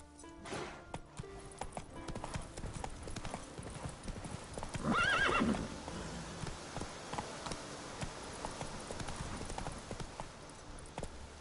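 The horse Roach galloping in The Witcher video game, rapid rhythmic hoofbeats close by throughout, with a loud whinny breaking in midway, faint buzzing in the background.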